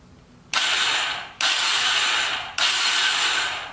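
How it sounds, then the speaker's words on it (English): A 2006 Honda TRX300EX ATV starter motor spins freely without turning the engine over, three loud whirring bursts at each start-button press, each starting abruptly and fading slightly, with brief gaps between. "So when I hit the start button, it's supposed to turn the engine over, but it's actually freewheeling."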